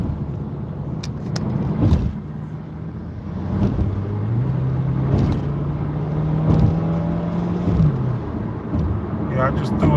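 A car speeds up quickly to 60 on a city road in Far Rockaway, Queens, its engine note climbing steadily and holding a rising whine, with passing traffic whooshes and someone talking over it.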